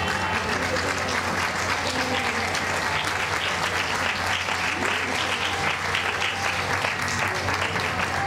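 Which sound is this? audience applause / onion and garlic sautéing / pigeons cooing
audience applause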